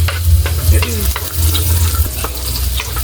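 Onions fry in a pan for pork picadillo, a steady close sizzle with repeated stirring scrapes and a constant low hum underneath, with no talking.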